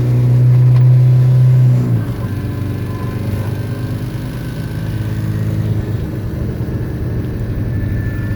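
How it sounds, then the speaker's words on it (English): A Chevy Tracker engine, cold-started in Canadian winter weather, holds a loud high rev for about two seconds, then drops to a rough, lumpy idle that continues at a lower level. "Oh, she's gonna rev up, dude."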